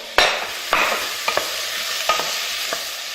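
Vegetables for curried parsnip soup sweat and sizzle in a pan under a soft continuous frying hiss, punctuated by several sharp scraping stirs of a utensil against the pan, close and fairly quiet, no talking.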